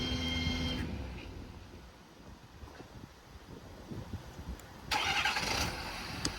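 Diesel engine of a 2018 Ford F550 service truck started by remote, a loud cranking burst and turnover near the end after a stretch of quiet, wind-buffeted outdoor ambience with the engine shut off.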